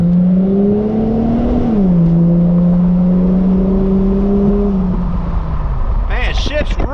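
A 2001 Plymouth Prowler roadster's engine drones steadily up close, its pitch rising and dropping as gears change, with speech-like sounds near the end.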